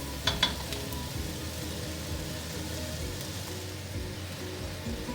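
Onions and peppers sizzle steadily in a hot pan over high heat while being stirred, a continuous crackling hiss with a few brief clinks near the start and no talking.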